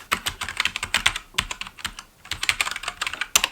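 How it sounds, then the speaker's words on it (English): Fast, clacky typing on a Keychron mechanical keyboard, close and crisp, keystrokes coming in quick bursts with short pauses and no talking. "I went ahead and bought a Keychron. This is a mechanical keyboard."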